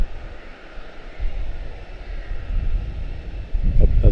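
Etihad airliner climbing out after takeoff from Charlotte-Douglas, a low jet engine roar that swells around the middle and builds louder toward the end, heard alone.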